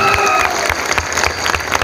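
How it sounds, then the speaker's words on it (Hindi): A crowd claps in welcome at an Independence Day rally gathering in Aurangabad, with dense, steady applause that carries through the short stretch and a few individual claps popping out near the front. "समीर भाई के लिए भी आप तालियां बजाकर उनका स्वागत कीजिए"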